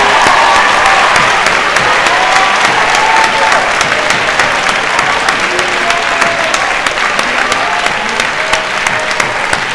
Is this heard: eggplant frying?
no